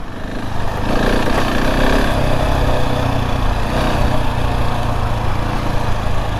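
A KTM 690 Enduro R single-cylinder motorcycle engine runs off road, loud and close, with a continuous buzzing drone and small throttle swells throughout.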